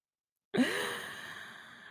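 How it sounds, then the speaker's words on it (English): A single long breath pushed out fully through the mouth during a yoga class, starting with a sharp onset and trailing off softly, close and quiet. "Exhale fully through the mouth."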